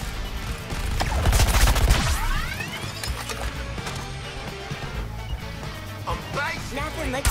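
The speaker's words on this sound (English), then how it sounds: "Airstrike." Airstrike explosions in the video game Suicide Squad: Kill the Justice League, a loud booming barrage rising early and rolling through the first couple of seconds, then fading into scattered crashes and gunfire under game chatter.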